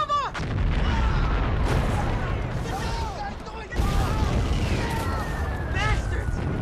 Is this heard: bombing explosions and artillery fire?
yes